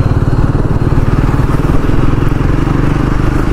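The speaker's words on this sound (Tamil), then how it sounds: "ஒரு லைட்டாக நீங்கள் ஆக்சிலேட்டர் கொடுத்தாலே வண்டியினுடைய இனிஷியல் பிக்கப் பாருங்களேன், அப்படி சடனாக வந்து பிக்கப் ஆகுது, அது ரேவ் ஆகுது நல்லா" A Triumph Speed 400 motorcycle is ridden and accelerated on the road, its engine producing a loud, continuous, close-up roar with a throbbing mid-range rumble throughout.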